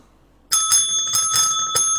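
A small hand bell rings several times in quick succession, bright metallic strikes with ringing overtones, close and clear after a moment of near silence.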